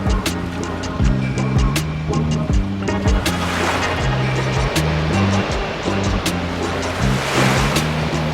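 Ocean surf rolls in at Elliot Heads Beach in Australia, a loud, continuous wash of breaking waves heard under prominent music.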